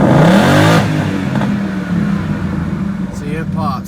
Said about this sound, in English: let's get a couple of revs